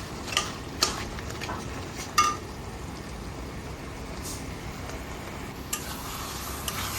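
Fried fish heads being stirred and sautéed in a pan with taro greens, a soft continuous sizzle broken by a few light clinks of a utensil against the pan.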